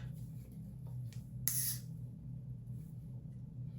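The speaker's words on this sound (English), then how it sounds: "what I do is I go in with the spray again" A single short hiss of hair spray on a lace front wig, close and fairly soft, over a low steady hum; no talking.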